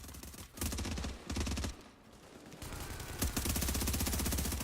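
An L86 gun firing in a video game, loud rapid bursts separated by short gaps, the last burst running longer and continuous.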